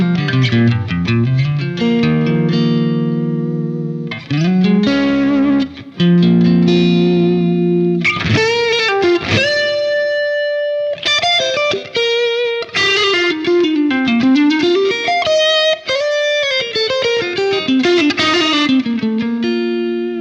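Electric guitar played through the Fractal FM3 Liverpool Bright amp preset, bright and spanky, with chords and single-note runs ringing loud and sustained, broken by a few short pauses, without any voices.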